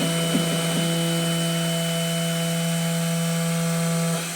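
Makera Z1 desktop CNC machine milling a polycarbonate wasteboard, a loud continuous spindle whine with steady tonal hum, a couple of brief bumps near the start, running alone until it fades at the end.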